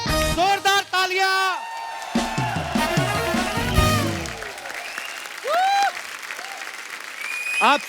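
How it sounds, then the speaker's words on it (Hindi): A television comedy show's studio audience applauds loudly as guests arrive on stage. Strong cheering and whoops run through the clapping, along with excited voices and musical tones. "जोरदार तालियां।"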